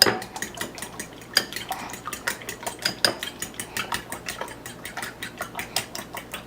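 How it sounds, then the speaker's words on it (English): Eggs beaten in a bowl with a utensil, a fast, regular series of clinking strokes against the bowl sides, close and fairly loud, with no voices. "So now we're going to go ahead and beat the eggs."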